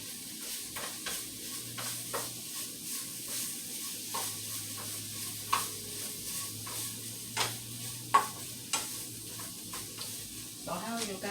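A chicken bacon ranch slider mixture being stirred in a pan, with soft repeated scrapes and taps of a utensil over a faint, steady sizzle, close and fairly quiet, no talking.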